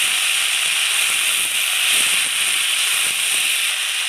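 Kolmi saag greens hiss and sizzle steadily in a hot pan with kalo jeera, a dense continuous frying crackle that stays loud and even throughout with no talking.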